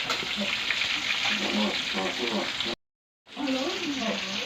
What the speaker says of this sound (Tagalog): Ngayon, magpiprito ako ng tilapia.